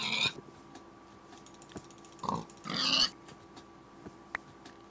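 Minecraft pigs oinking in a few short grunting bursts, moderately close, with keyboard-like clicks in between and no talk.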